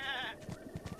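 A goat bleats loudly in The Legend of Zelda: Breath of the Wild: one drawn-out, wavering call, followed by soft, rhythmic thuds of movement.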